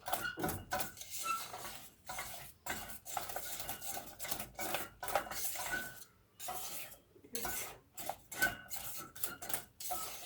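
A spoon scrapes and clinks against a bowl in irregular bursts and pauses while a chocolate soufflé mixture is stirred, close and fairly quiet, with no talking.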